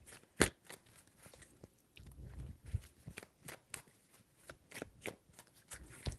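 Tarot cards shuffled by hand, a run of crisp riffling bursts and soft slaps at irregular intervals, close and quiet, with one sharp louder snap near the start.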